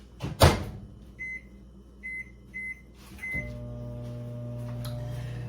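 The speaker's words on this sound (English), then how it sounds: "I'm going to put my butter in the microwave and give it a little melt" A door thumps shut, a few keypad beeps sound, then a microwave oven starts and hums steadily while melting butter.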